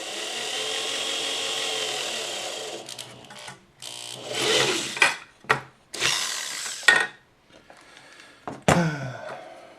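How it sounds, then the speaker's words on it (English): Power drill boring a hole at a center-punched mark, with a steady motor whir first and then a series of short bursts of drilling separated by pauses and knocks, close and fairly quiet. "So we just need to drill that."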